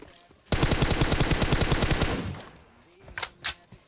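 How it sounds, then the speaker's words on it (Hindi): A sustained burst of rapid automatic gunfire in PUBG, loud and close, runs for about two seconds, followed by a couple of separate sharp shots. "गोली चला रहा हूं और बहुत कम बर्बाद हो रही है गोली"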